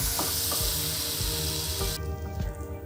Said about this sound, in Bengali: আলুটাও হালকা ভাজা হওয়া পর্যন্ত আমি অপেক্ষা করব।